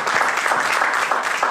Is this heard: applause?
yes